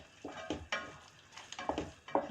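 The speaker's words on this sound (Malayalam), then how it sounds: "ഇളക്കിക്കൊണ്ടേയിരിക്കണം" A ladle stirs thickening broken-rice payasam (nurukkari payasam) in a pot, producing rhythmic scraping and sloshing strokes, about six distinct sweeps, close and quiet with no talking.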